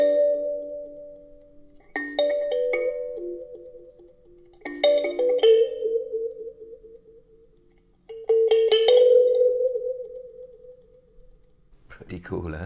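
An mbira mounted in a resonator box whose side holes are opened to change its tone, playing short bursts of plucked, ringing tines in four phrases with pauses between them, close and alone.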